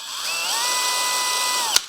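A stone hone spins inside a motorcycle brake pedal bushing for a 1980 Suzuki RM dirt bike, producing a steady, loud high-pitched whine that climbs in pitch as it spins up, holds level, then ends with a sharp click.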